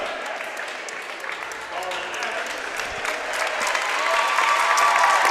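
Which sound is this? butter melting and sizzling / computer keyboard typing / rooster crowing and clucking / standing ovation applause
standing ovation applause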